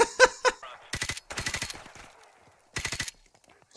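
Automatic gunfire from Call of Duty: Modern Warfare Remastered rattles out in several short, sharp bursts separated by brief pauses. The shots are loud and close, with no voices.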